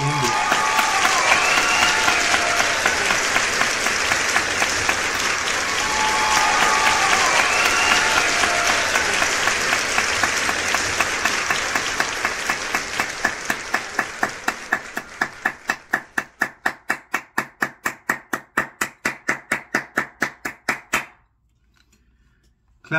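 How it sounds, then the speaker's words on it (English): A crowd claps loudly and densely, then thins into slower rhythmic clapping that fades out near the end, ending in near silence. "Clap it up for the album."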